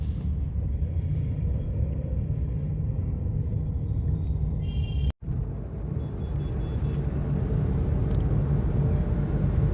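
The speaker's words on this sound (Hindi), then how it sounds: "ये जा रही गाड़ी अपनी एक और maroon colour grand i10 sports" A maroon Hyundai Grand i10 Sports car rolls along a road with a loud, steady low engine and road rumble, broken by a brief dropout midway before the drone resumes.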